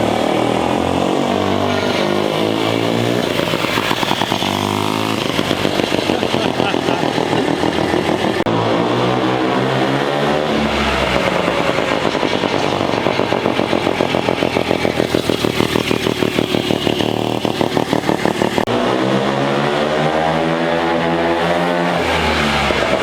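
A turbo rotary minibike engine revs hard and loudly for a long stretch, pitch sweeping up and down repeatedly as it climbs the rev range quickly and drops back, harsh and close with no talking.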